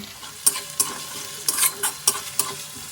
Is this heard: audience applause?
no